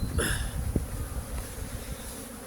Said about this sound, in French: Parce qu'il y a beaucoup d'abeilles.